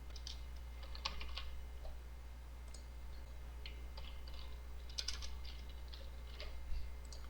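Scattered keystrokes tap on a computer keyboard at an uneven pace, light and close, over a constant low electrical hum, with no voices.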